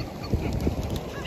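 Seagulls calling at the seashore, a flock of raucous honking cries rising over steady wind and surf noise, several calls close together and fairly loud.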